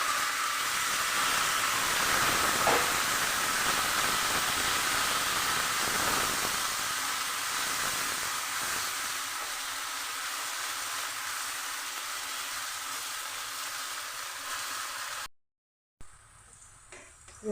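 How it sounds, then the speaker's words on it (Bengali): Boiled ponka greens frying with onion and garlic in a pan give a steady, close sizzle that hisses continuously, growing a little quieter toward the end before a brief break. "এভাবে নাড়িয়ে নাড়িয়ে 5 মিনিট শাক ভেজে নেব।"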